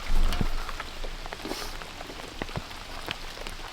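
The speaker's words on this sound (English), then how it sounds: "this unexpected rain rolls through." Steady rain patters on a surface, with scattered individual drops tapping close by and no talking.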